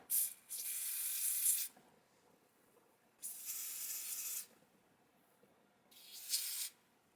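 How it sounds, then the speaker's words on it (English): Three bursts of hissing lace bond adhesive spray along a wig's hairline, each a second or so long, close and fairly soft, separated by short quiet pauses. "we're gonna go back in with our lace bond adhesive spray, and then we're gonna spray along the hairline"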